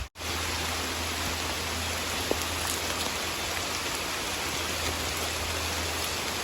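Steady outdoor rain falling during a rainy-day bamboo shoot hunt behind a house, a constant dense hiss of drops on surfaces with no voices, one faint sharp tick midway.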